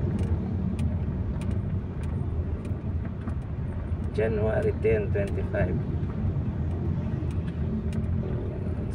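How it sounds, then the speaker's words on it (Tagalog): Heavy early-morning road traffic at Pelcoa, a steady, dense rumble of engines with a brief rising whine of a passing vehicle, while someone speaks over it. "Ayan na po yung traffic po."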